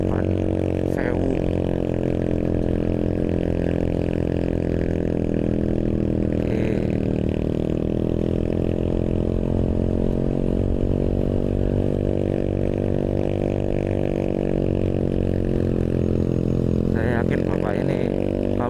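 A mid-pitched motorcycle engine hums steadily and close while riding across the sand on the route to Bromo via Tumpang, holding a near-constant tone with slight pitch shifts and a voice speaking over it.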